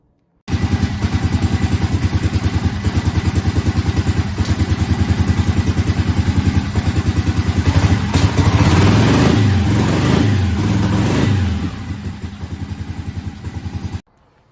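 A Harley Sportster chopper with a freshly rebuilt carburetor starts and runs with a loud, steady, close-up idle, revs up briefly near the end, then settles before cutting off.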